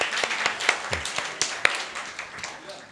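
A church congregation at a midweek worship service claps to welcome visiting brothers and sisters from another group; scattered, uneven handclaps ring out through the room with faint murmuring underneath.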